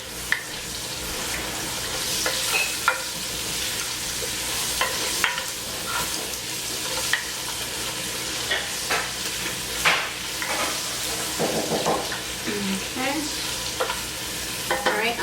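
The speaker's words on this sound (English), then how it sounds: "I'm going to add in the thyme. And stir it around." Softened onions and thyme being stirred in a pot, with a steady soft sizzle and scattered light scraping knocks throughout, close by and without any voices.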